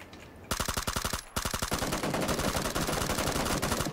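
Rapid automatic gunfire in PlayerUnknown's Battlegrounds, loud, close bursts of shots that start after a short pause and then run almost continuously, with a brief break in the middle.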